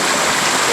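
Rain-swollen stream water rushing through a national recreation forest, a steady broadband wash of flowing water heard close and loud throughout the short clip with no talk.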